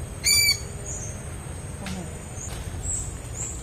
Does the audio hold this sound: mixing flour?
no